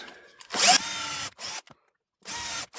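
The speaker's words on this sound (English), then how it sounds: "I'm using a 2mm drill bit for that." A power drill fitted with a 2mm bit bores into a handmade shield, giving a loud whirring burst followed by several shorter spurts of drilling separated by silence, with no talk.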